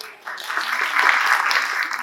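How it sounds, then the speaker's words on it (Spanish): An audience at an evening talk on extractivism in Latin America and Bolivia breaks into applause, a soft hiss of clapping that swells after a brief pause and holds steady, with faint voices underneath. "Fuertes los aplausos, por favor."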